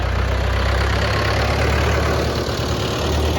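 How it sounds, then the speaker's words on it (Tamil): A tractor engine runs steadily nearby, a loud continuous low rumble with a constant mechanical drone and no breaks, heard alone. "இந்த டிராக்டரை பாரு"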